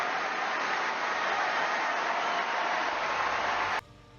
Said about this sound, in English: applause from family, friends, and even the Serbian president rang out around Wimbledon's centre court